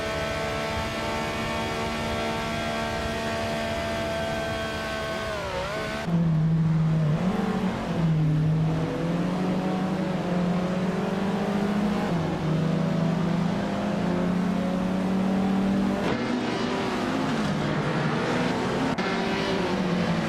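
Race car engines in a racing video game at a race start at Sonoma, with a 1962 Morgan Plus 4 Supersports on pole. A steady engine drone swells into loud revving with gear changes that rise and fall.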